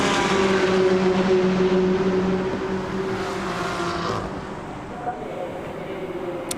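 GT racing cars lapping Suzuka circuit during qualifying, a steady loud engine drone that gradually fades as the cars pull away, with a commentator talking over it.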